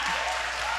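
An audience at a church service claps briefly, a dense burst of applause heard close and fairly loud.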